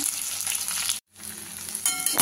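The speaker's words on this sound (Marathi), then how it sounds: "बघा सगळी भेंडी कढईमध्ये टाकून घेतलेली आहे" Okra sizzles steadily in a little oil in a wok, a dense, close frying hiss that cuts out for a moment before resuming.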